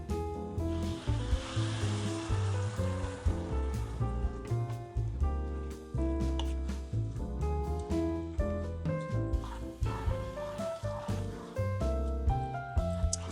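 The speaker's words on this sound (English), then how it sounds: "We're gonna add our wine." White wine hits a hot pan for mushroom risotto, giving a continuous sizzling hiss that swells and settles over several seconds, with steady tonal music playing underneath.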